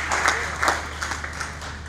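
An audience claps to welcome guests at a formal honorary event, a steady patter of many hands with a few louder swells, held at moderate level throughout.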